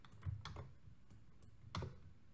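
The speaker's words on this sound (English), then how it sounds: "So right now I'm clicking left, I'm clicking right." Computer mouse buttons clicked left and right at a desk, a few faint, sharp clicks spread irregularly across a quiet background.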